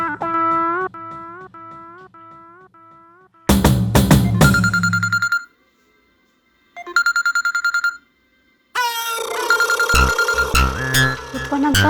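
A mobile phone rings with a melodic electronic ringtone, followed by loud repeated electronic ring bursts separated by short silences, close and clear.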